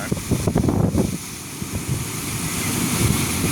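Steady rushing water flows fast at Muthuiyankaddu reservoir in Vanni, Sri Lanka, filling the clip with a broad continuous roar and some choppy splashing near the start, fairly loud and unbroken.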